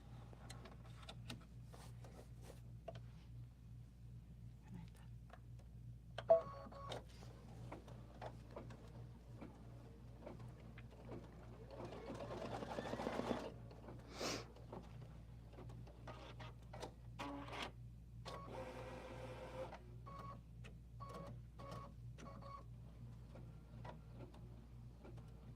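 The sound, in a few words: embroidery sewing machine stitching placement lines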